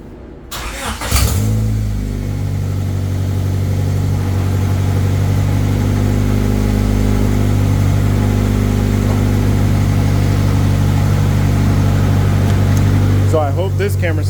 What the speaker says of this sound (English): I can't really rev it up though